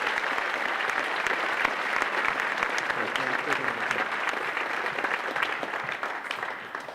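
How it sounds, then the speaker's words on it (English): Steady audience applause at a juggling festival show, a dense sustained clatter of many hands clapping evenly from a large crowd. "I'd like to get just a little bit of applause for them right now"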